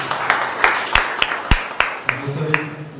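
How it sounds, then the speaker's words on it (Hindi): Scattered hand claps from a church congregation at a Sunday service, about a dozen sharp, uneven claps over a low hum of voices. "इन नामों के लिए एक बार जोरदार तालियां"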